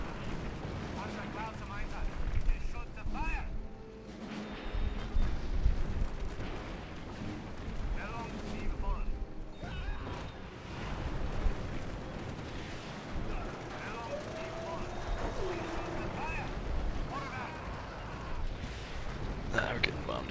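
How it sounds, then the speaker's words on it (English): Artillery shells pound down in the Axis & Allies strategy game during the World War II Battle of El Alamein, a steady barrage of booming, rumbling explosions with a few sharp cracks layered over one another. "We're getting bombed again."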